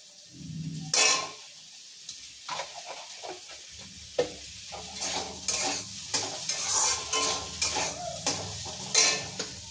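Ginger garlic paste and ground spices frying in a pan, steady sizzling broken by repeated clinks and scrapes of a spoon against the metal, close and busy, no speech.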